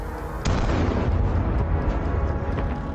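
A destroyed Russian tank blows up in a loud, sustained explosion that bursts in suddenly after a brief quieter moment, then keeps roaring and crackling with dense low rumble, no voices present.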